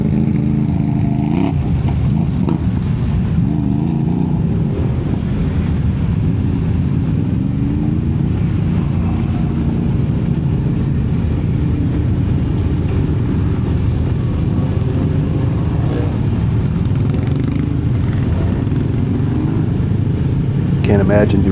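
A 2025 Kawasaki Brute Force ATV engine drones loudly and continuously while riding through mud, with low rumbling revs that rise and fall across the ride.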